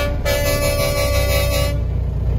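A loud, sustained truck air horn blares for about a second and a half over a running engine during a truck convoy rally in Brazil, then cuts off abruptly.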